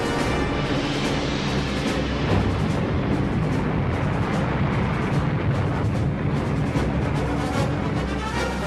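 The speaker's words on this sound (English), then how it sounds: "The bombers added to the growing cacophony of explosions echoing around Dieppe." Bombing raid on Dieppe: a dense, continuous roar of explosions and heavy booms rolls on without pause, loud and thick with low rumble, like massed bombs and artillery going off together.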